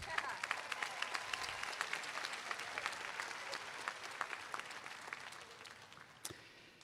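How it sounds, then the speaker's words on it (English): Graduates applauding at a commencement ceremony, a broad steady crowd of clapping with distinct individual claps standing out, heard at a distance and fairly soft, fading near the end. "Give yourself a round of applause."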